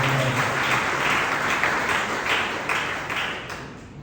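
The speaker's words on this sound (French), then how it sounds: "je vous demande de l'applaudir" Audience applause at the inauguration of a West African health-professions institute in Parcelles Assainies, a dense, steady clapping from a crowd that fills the whole stretch and slowly tapers toward the end.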